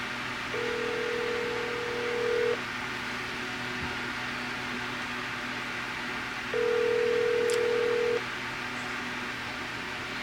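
Two long steady electronic tones, each lasting about two seconds with a pause between, sound over a faint constant hum, like a phone line ringing.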